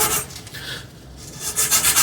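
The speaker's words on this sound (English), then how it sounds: "sometimes you're sanding stuff and see right through the layers" Steady abrasive rasping of sandpaper worked back and forth over a chrome-plated steel bike frame on a Raleigh 650B conversion, close and continuous with no voices.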